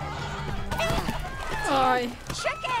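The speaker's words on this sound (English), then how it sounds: "Chickens!" Chickens cluck and squawk in the video game Minecraft Story Mode, with loud, busy bursts over a dense game soundtrack and character voices.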